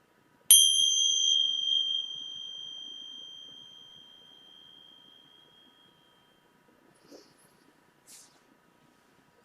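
Chimes rung once at the start of a meeting session, a single clear bright strike whose ringing tones slowly fade over several seconds, followed by quiet with a few faint soft knocks.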